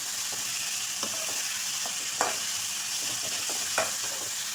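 Vegetables and mayonnaise are mixed in a pan over a constant sizzle, with scattered soft scrapes and a couple of sharper utensil knocks on the metal.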